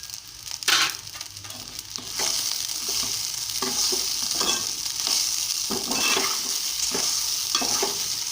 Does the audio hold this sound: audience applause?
no